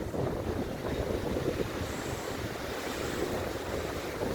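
Strong storm wind roars with crashing sea waves on the coast at Antalya in winter, a dense, constant rushing noise with gusts buffeting the microphone.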